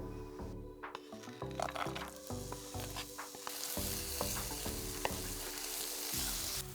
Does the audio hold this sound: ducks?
no